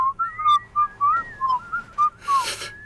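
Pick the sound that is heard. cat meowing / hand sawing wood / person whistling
person whistling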